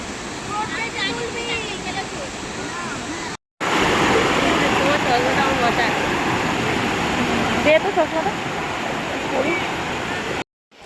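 Dasham Falls pours in a broad, continuous rush of water, loud and steady, broken by two brief silent gaps, with faint voices and birdlike chirps over the roar.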